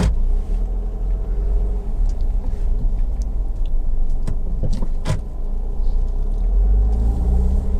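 Honda CR-V 1.6 i-DTEC diesel with automatic gearbox and four-wheel drive under way, heard from the cabin as a steady low engine and road rumble with a couple of faint clicks and knocks.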